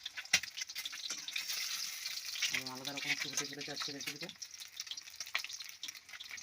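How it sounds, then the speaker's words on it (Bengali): Egg frying and being stirred in a pan for a dish with pointed gourd and flattened rice, giving a steady close sizzle with scraping stirs, while someone talks over it. "ডিমটা ভাজা চলছে নেড়ে ডিমটাকে ভেজে নিতে হবে সুন্দর করে ভেজে নেবে"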